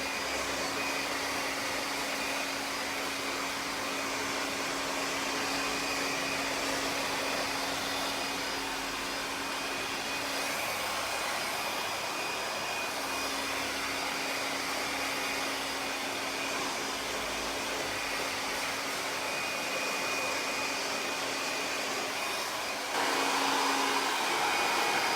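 A handheld blow dryer runs steadily and close while drying a man's short cut hair, a constant loud whooshing roar with a faint whine that shifts slightly partway through.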